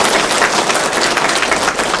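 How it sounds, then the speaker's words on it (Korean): Loud, dense applause from an audience welcoming a speaker at a staff assembly, continuous and close-sounding for the full span with no talk over it. "박수로 환영해 주시기 바랍니다"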